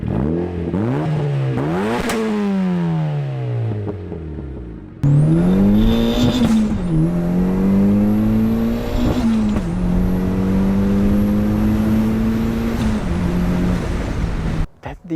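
Engine and exhaust of an 8th generation Honda Civic Si, revving up through several gears with rising and falling pitch, a brief lull and then sustained loud acceleration pulls with steady drone, close by and without talk.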